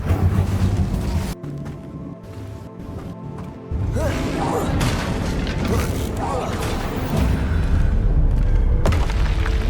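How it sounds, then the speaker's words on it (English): A fire spell cast in the video game Hogwarts Legacy bursts out as a loud, booming whoosh over continuous game music and ambience, with a few brief thuds just before it. "Incendio."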